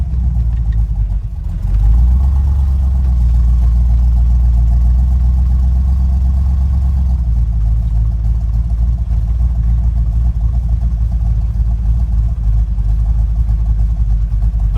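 A Ford F100 bumpside pickup with a Crown Victoria engine swap idles steadily up close, a low even rumble that swells briefly about two seconds in, then settles into a constant warm-up idle.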